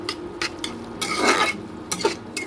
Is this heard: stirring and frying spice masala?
yes